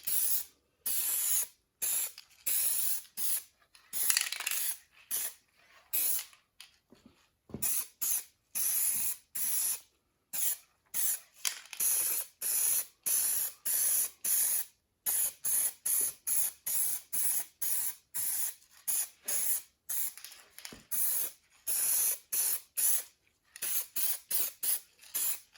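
Light gray base coat sprayed from a can over black on a 1968 Mustang, heard as dozens of short, close hissing bursts in a rapid, uneven rhythm with brief silent gaps between passes.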